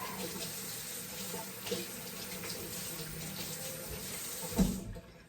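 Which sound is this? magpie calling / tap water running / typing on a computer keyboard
tap water running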